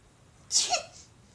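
A single short, sharp sneeze, fairly close, with quiet breathing just after.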